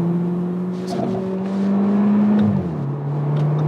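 Exhaust of a fake Audi RS3 with its valve open, a steady engine drone rising slightly then dropping back, close and continuous over about four seconds.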